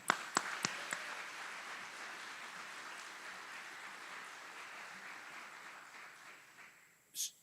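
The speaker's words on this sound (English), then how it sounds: "join me in a round of applause for our graduates" Applause for newly graduated Army aviators at a military graduation ceremony: several sharp claps open, then a faint, distant crowd patter holds steady before one last brief burst near the end.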